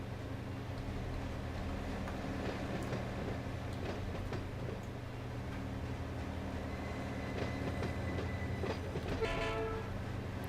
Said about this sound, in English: I just love this horn sound.